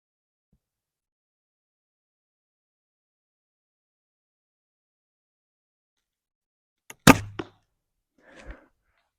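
After long silence, an arrow from a traditional bow strikes the target with a single sharp thwack, followed by a short rattle and a fainter thud a moment later.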